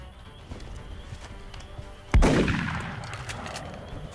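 Shotgun blast in the turn-based strategy game XCOM: Enemy Within, a single loud, sharp shot midway through with a reverberant tail fading over about two seconds, following a low ambient game background.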